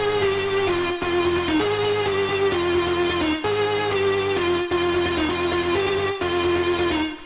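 A synthesizer lead melody from a song plays a steady, continuous line with short phrases and gaps, dense and loud, with a faint beat running underneath.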